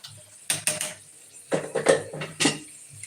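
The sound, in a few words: plates and dishes being set down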